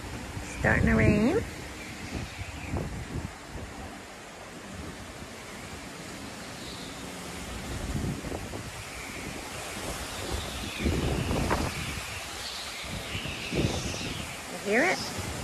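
Gusty wind from an approaching storm roars against the microphone near a dock or shore with boats, rising and falling in waves, with a few brief voiced exclamations over it.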